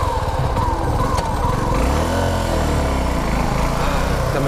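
A Suzuki V-Strom 250 motorcycle engine on a test ride in Indonesia, running with a loud steady drone close by, its pitch rising and falling slightly as the throttle changes.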